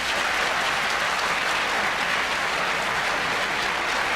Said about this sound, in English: I just want to hear all of the Kenai Central High School students clap for yourselves